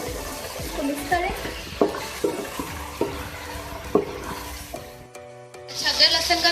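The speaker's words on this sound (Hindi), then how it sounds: "अदरक लहसुन का पेस्ट डाल के इसको भूनेंगे" Ginger garlic paste and chicken stirred and scraped in a pan with a soft sizzle, metal utensil knocks tapping out a loose rhythm, close by and moderately loud.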